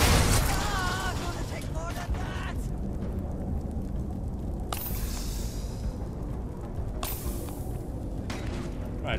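Grenade blasts in the space game Starfield, several broad bursts at about 4.7 and 7 seconds, loud and close, over constant gunfight noise and reloading clatter while a person talks.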